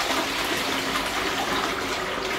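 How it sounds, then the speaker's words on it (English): A toilet flushes in an ensuite bathroom during a pre-settlement home inspection, a steady close rushing gush of water running for a few seconds with no talk. "Try the flush."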